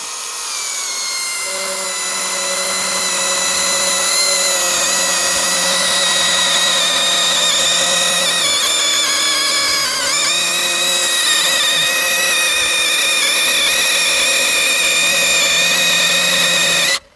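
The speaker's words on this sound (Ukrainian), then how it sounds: "Ріжемо березу, атаку, така вона трохи підгуляв, що не думаю, всередині вона буде жива." A saw cuts through a birch log about 20 cm across, partly decayed, with a loud, steady, tonal whine that holds evenly throughout.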